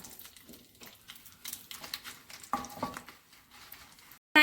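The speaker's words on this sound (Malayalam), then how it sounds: "അതിലേക്ക് ഒരു 5 or 6 വറ്റൽമുളക് ഇട്ടൊന്ന് മൂപ്പിച്ചെടുക്കാം" Dried red chillies fry in coconut oil in a pan, giving a soft, steady sizzle. Quiet scraping and stirring taps sound against the metal throughout.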